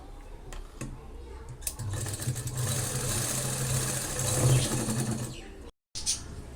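A sewing machine runs steadily while stitching blouse lining pieces together, a continuous close mechanical whir with ticking clatter that stops briefly near the end before resuming.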